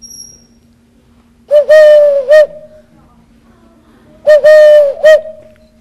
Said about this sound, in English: this is my wife's flute